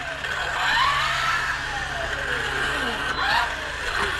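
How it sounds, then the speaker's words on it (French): A Hobao Hyper VS RC car's motor whines in rising and falling pitch sweeps over a steady background rumble, close and fairly loud, without speech. "Le bruit vient aussi du moteur en plus."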